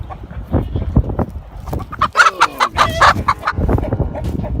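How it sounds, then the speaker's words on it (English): Chickens cluck and squawk in agitated bursts while being chased on a farm, loud and close, with flapping and scuffling movement around them. "Try to catch a chicken while holding the camera."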